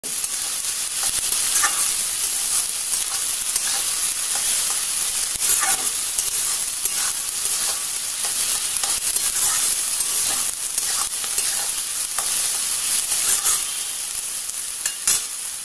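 Chopped onions with a little salt sizzle steadily in hot oil in a pan, a continuous bright hiss broken by occasional scrapes and stirs of a spatula, close and loud with no talking.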